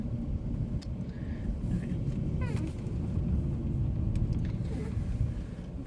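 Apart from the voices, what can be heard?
car driving slowly into a parking spot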